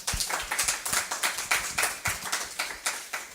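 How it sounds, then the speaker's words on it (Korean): A class of dental technology students claps in a lecture room, a run of sharp, uneven handclaps from a small group, fairly close, with no talking. "그래, 박수."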